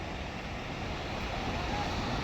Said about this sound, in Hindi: पानी इतनी तेज़ बहाव है